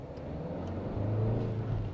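A Tata Altroz facelift hatchback, diesel or iCNG, accelerating in first gear, heard as a steady, moderately loud engine hum with a low drone that rises slightly, no talking.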